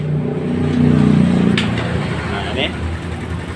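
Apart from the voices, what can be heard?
motorcycle engine starting and idling without a battery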